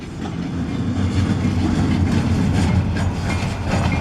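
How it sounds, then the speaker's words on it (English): A short freight train rolls past nearby in a loud, continuous rumble with rhythmic clickety-clack from the wheels and no voices. "Short train today."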